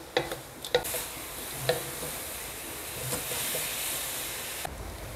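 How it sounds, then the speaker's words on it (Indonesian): Young papaya is stir-fried in a pan, a continuous hissing sizzle broken by several clicks and scrapes from the spatula, close and moderately loud. "Kita tumis guys."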